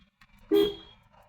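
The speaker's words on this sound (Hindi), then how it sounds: "जिसकी मैं दबा के दिखाता हूँ आपको, हॉर्न बजेगा" A Maruti Swift Dzire car horn, pressed at the steering wheel from inside the car, gives one short, loud honk that trails off over about a second.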